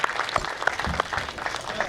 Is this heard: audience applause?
yes